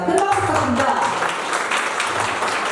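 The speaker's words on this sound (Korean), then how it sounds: "큰 박수 부탁드립니다" Short round of audience applause at an annual general meeting of a city tourism association, moderately loud and steady, with a speaker's voice over the start.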